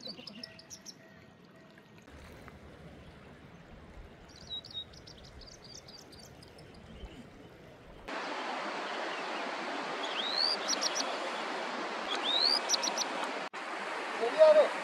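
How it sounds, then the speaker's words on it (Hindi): Birds chirp and call over a steady broadband rush of a flowing river near the Garjiya Devi temple by Corbett National Park, with the water growing louder midway and brief bird notes cutting through. "और चिड़ियाओं की कितनी सुंदर आवाज़ आ रही है इधर, नदी की और पक्षियों की आवाज़ें।"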